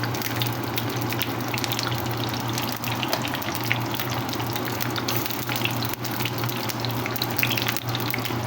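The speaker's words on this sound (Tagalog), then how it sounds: "Ilagyan ko na siya ng konting oil, then fry na natin yung ating eggplant." Eggplant frying in a little oil in a pan, a steady dense hiss and crackle that stays close and even throughout, with no talking.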